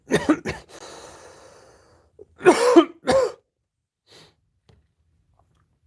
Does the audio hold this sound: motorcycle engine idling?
no